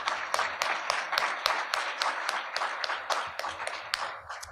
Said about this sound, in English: please, let's give our panelists a round of applause